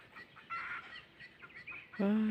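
Hens on a Thai farm cluck in short, soft bursts, quiet and a little distant at first, then one sharper, louder squawk close by at the end, with no one talking.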